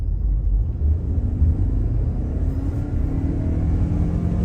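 A Toyota RAV4 Prime in hybrid sport mode accelerating hard, heard as a steady low engine and road rumble from inside the cabin, fairly loud and unbroken.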